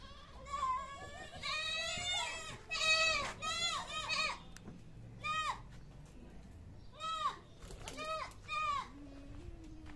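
Several goats on a goat farm bleat loudly and close by, with repeated wavering cries coming in bursts over quiet farmyard background noise.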